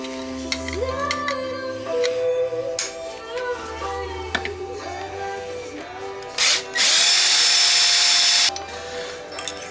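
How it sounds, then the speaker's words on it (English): A power drill whirs loudly in one steady burst near the end, drilling a hole for a GT wing bracket on an R33 GTS-t, after a stretch of lower humming and a few brief clicks. "So what I'll do is I'll drill this hole,"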